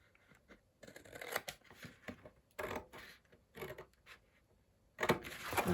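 A cracker box is cut up by hand, close and quiet, in a series of short rasping cardboard-cutting bursts separated by brief pauses, ending in a louder final cut.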